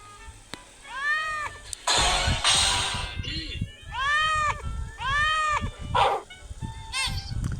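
Children playing a game take turns imitating a cat's meow, their voices giving several drawn-out, wavering mews in quick succession, close and loud, broken by bursts of shouting and laughter.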